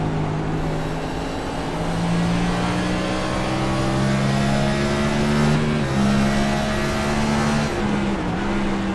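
Loud onboard engine of a NextGen race car at Richmond, a sustained tonal roar whose pitch rises and dips with brief breaks as gears change up and down through the short-track lap.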